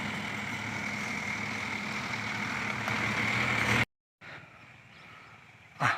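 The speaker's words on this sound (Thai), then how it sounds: "รถมาถึงแล้วครับ" A Kubota backhoe with an air-conditioned cab rumbles steadily as it arrives at a flooded village, its heavy engine droning close and loud, then cuts out briefly before resuming more faintly.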